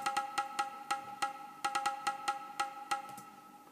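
Percussion hits layered into a drill beat, a quick, irregular run of crisp, bright taps and clicks played alone, fairly close and moderately loud.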